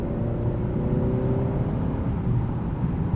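Steady engine whir and road drone from a 2021 Honda Accord Sport with a 2.0-liter turbo, driving smoothly at night with no sharp revs, a continuous close cabin hum.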